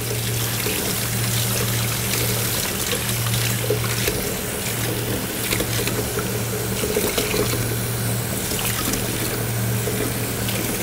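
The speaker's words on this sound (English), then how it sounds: "try and run some cold water in there just to clean it out" Cold tap water runs steadily into a squid hood to rinse it clean, a close, continuous trickling and splashing stream with no talk over it.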